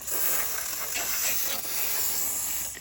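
A can of lubricant sprayed steadily into a car window track, one continuous close hissing spray lasting nearly three seconds without a break.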